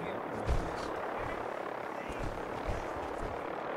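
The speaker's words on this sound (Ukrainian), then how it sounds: "Там гелікоптери, я чую." A steady helicopter rotor drone from the Fallout 4 video game fills the background, with a few dull thumps and a person talking over it.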